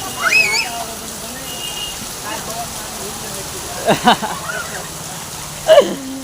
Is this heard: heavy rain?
yes